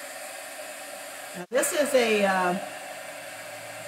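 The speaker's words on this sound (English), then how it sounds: "this is an embossing gun, so it gets pretty hot, so be careful." A hot embossing heat gun blows steadily across glass being dried for a DIY mercury glass project, a close rushing hiss that starts abruptly and runs for about a second before easing off, with a brief spoken word just before.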